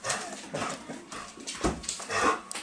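Excited dog whimpers and gives short yips in a loose series, close by, at a first meeting with another dog.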